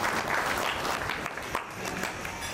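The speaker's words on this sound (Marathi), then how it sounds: "सर्वांनी टाळ्या वाजवून त्यांचा आभार व्यक्त." Audience applause rising in thanks at a Waghapur village gathering honouring a guest, with dense, steady clapping that stays loud and continuous throughout, with a few sharper claps standing out.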